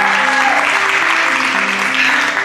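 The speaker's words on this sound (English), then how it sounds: "Can we have another round of applause for her?" Dense, steady audience applause fills a room at a Creative Mornings talk in Tulsa, loud and continuous throughout, with a faint voice or tone lingering underneath.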